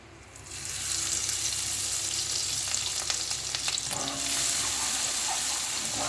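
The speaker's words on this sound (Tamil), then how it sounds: "இது ரெண்டும் நல்லா கிறிஸ்பியாக வதக்கிக்குங்க" Chopped garlic and dried shrimp fry in hot oil, a steady close sizzle and crackle holding evenly throughout, with a few brief scrapes of stirring partway through and no voices.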